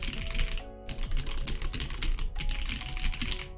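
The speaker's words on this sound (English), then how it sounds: "if you use this on a metal plate, which I actually have right here, all of these switches right here are Jelly Blacks, it's really clacky" Rapid, continuous typing on a mechanical keyboard fitted with Jelly Black switches on a metal plate, giving a dense, clacky patter of close keystrokes with brief pauses.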